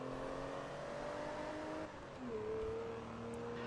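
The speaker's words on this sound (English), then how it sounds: "I love the sound of the engines in this game." Race car engines in the video game Forza Motorsport 2 drone steadily at low volume, with the pitch of the engines holding, then dipping and shifting as revs change, with no voices.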